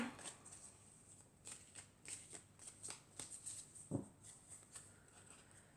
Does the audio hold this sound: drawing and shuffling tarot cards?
yes